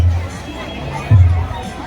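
A large nighttime crowd at the Kankaria Carnival 2025 in Ahmedabad makes a loud, steady murmur of many voices mixed with low rumbling, with a brief surge partway through.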